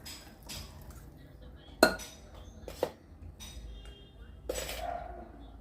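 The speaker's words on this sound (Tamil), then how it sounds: "ரொம்ப வந்து மிக்ஸ் பண்ணாமல் லைட்டாக மிக்ஸ் பண்ணுங்கள்." A spoon knocks and clinks against a bowl a few times while eggless Christmas cake batter is lightly stirred, with a soft voice talking underneath.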